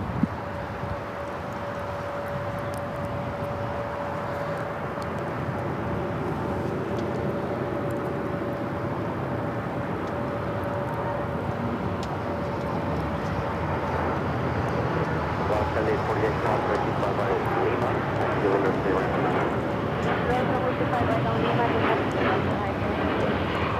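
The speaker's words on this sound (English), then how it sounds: "This is United Airlines 801 taking off to Hong Kong on the 787-9 Dreamliner" A United Airlines Boeing 787-9 Dreamliner takes off from runway 25 right at LAX, its engines giving a steady broadband roar that swells louder in the second half, with a thin whine running through and wind buffeting the microphone.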